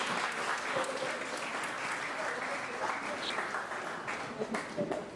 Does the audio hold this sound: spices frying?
no